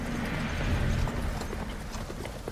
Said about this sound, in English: all Pharaoh's horses, his chariots, and his horsemen